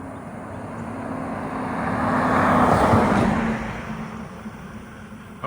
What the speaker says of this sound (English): got a truck coming